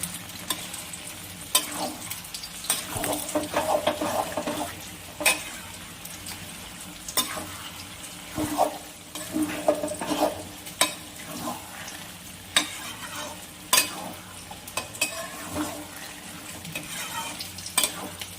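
A spoon stirs chopped coriander through a katla fish curry with potato and eggplant, scraping the pan in irregular close strokes over a soft, continuous sizzle with no voices.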